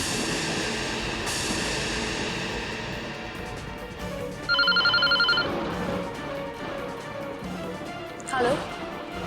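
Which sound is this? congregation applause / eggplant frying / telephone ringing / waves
telephone ringing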